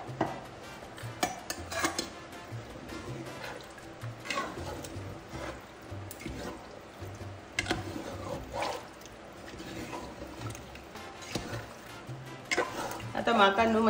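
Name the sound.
water being poured into pork vindaloo gravy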